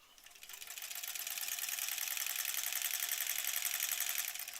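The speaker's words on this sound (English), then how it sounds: "We're just sewing." A sewing machine stitches quilt block pieces, starting up and then running at a steady fast whirring clatter for several seconds, close by and without any speech.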